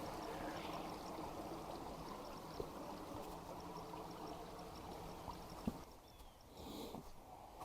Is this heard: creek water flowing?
yes